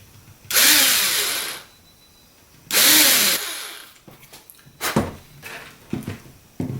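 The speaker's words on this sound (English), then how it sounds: "I'm going to drill the hole just a little bit offset." A small power drill boring an offset hole in a popsicle stick: two short, loud whirring bursts with spin-up and wind-down, then clicks and knocks as the parts are handled.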